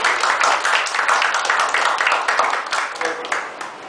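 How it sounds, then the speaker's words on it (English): Classroom audience applauding after a student group presentation, a dense sustained patter of many hands clapping for about four seconds, fading slightly toward the end. "please clap."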